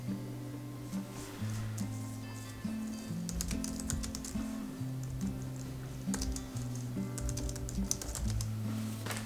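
Keystrokes on a Logitech MX Keys keyboard tap out a steady run of soft clicks, close by and fairly quiet, over a constant low tonal hum or background music that runs the whole time.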